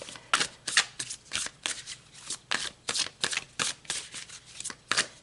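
A deck of tarot cards shuffled close and quietly, in a steady run of quick riffling bursts about twice a second, with no voices.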